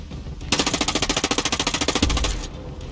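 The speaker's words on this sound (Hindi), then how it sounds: "एक बार टरेट उड़ाता हूँ यार, ये परेशान करेगा वरना।" Rapid automatic gunfire from Ghost Recon Breakpoint, a burst of about twenty evenly spaced shots over a second and a half aimed at an enemy turret, loud and close, with a heavier boom at the end as the turret is destroyed.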